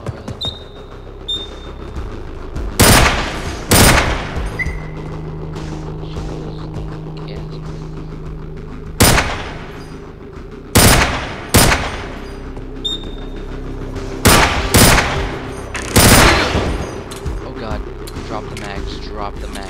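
Loud shotgun blasts in the video game Receiver, about a dozen sharp booming reports fired singly and in quick pairs at irregular intervals, with a low hum and occasional mechanical clicks in between.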